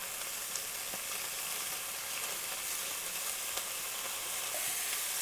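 Meat for yakisoba frying in a pan over maximum high heat, a steady, continuous sizzle with faint occasional clinks as the pan is shifted, no voices.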